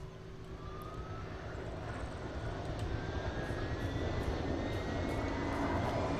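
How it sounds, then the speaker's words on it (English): A video game helicopter engine starts, its whine slowly building in pitch and volume, with a rising turbine tone over a steady low rumble, running alone without voices. "send the helicopter out to it"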